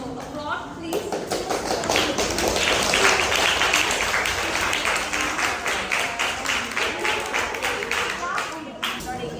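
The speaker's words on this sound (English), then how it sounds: "So applaud, please" An audience at a school demo debate on whether film adaptations beat the original books applauds after a speech, with steady, dense clapping sustained for several seconds.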